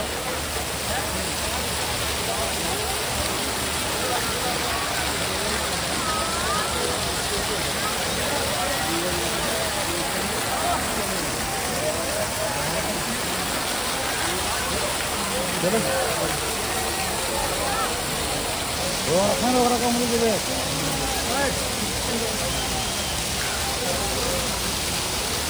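Water pours down from an artificial mountain at Prem Mandir in Vrindavan, a broad continuous rushing hiss that holds steady throughout, with faint voices now and then beneath it.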